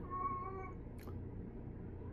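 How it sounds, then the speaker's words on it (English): A sick cat meows indoors, a soft drawn-out cry near the start over a low steady background hum, fading after under a second. "that's our cat"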